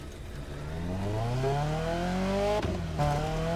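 A car engine in the racing game The Crew Motorfest, sounding stock, revs up steadily, its pitch climbing smoothly, then briefly dips as if shifting gear before rising again.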